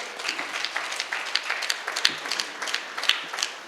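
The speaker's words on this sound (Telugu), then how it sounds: "ఆయన ఒకసారి గట్టి క్లాప్స్ కొడతాం" Applause from a gathered audience at a meditation project inauguration, a dense patter of many hands clapping at moderate distance, steady for a few seconds with a faint voice underneath.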